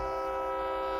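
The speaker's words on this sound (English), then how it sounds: "Press and hold the switch to sound the horn." A steady, sustained diesel locomotive horn blares from a train in Train Simulator Classic, a loud continuous multi-tone chord held throughout with no pause.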